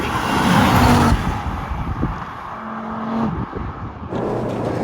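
A car being driven hard through mountain-top roads, the engine roaring close and loud with rising and falling revs and shifting pitch across the whole stretch, along with wind and road noise.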